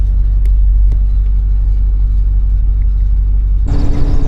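A 78-year-old bus rolls along an open road, its engine giving a steady, loud low rumble throughout, with a brief shift to a brighter, harsher roar near the end.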